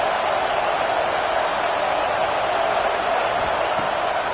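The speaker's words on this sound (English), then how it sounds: "This crowd bringing the energy and noise early." A football stadium crowd at an Ohio State Buckeyes game roars with a steady, dense wash of noise as the offense sets up first and goal near the end zone, holding an even level throughout.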